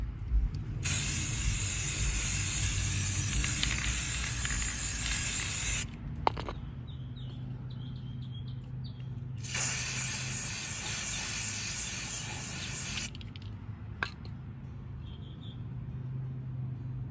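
Rust-Oleum 2x cover white spray paint hisses from an aerosol can in two long bursts, each about five seconds, with a quiet pause between them and a short spurt after. The spraying is close and loud, and no one talks.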